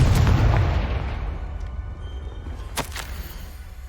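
Confringo spell explosion in Hogwarts Legacy, a deep booming blast that rolls off into a low rumbling tail, with a couple of sharp crackling bursts near the end and no talk.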